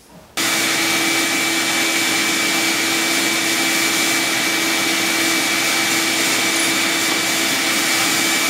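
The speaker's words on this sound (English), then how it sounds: "So here I'm just gonna drill a hole through a small dowel." A power drill whines steadily as it bores a hole through a small wooden dowel, a loud continuous grinding hum starting abruptly and holding constant for several seconds.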